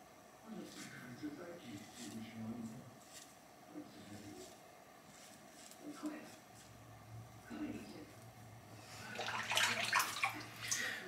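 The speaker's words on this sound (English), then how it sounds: "I'm dipping this whole razor in the water" A wet double-edge safety razor fitted with a Feather blade is dipped and swished in water, with soft sloshing through most of the clip and a louder burst of splashing and dripping near the end.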